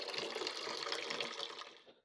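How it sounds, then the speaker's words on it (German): Tap water runs into a cooking pot in a kitchen, a steady rushing splash that fades out at the end, fairly quiet and without voices. "Immer mal den Topf schön mit Wasser."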